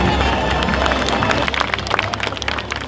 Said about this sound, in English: people are clapping, and I don't know why